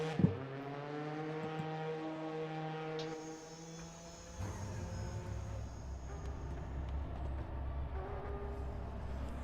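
GTE race cars in the Raceroom racing game at Zhuhai rise and fall in engine pitch as they pass, with harmonic whines giving way to a lower, steady roar, and no talking.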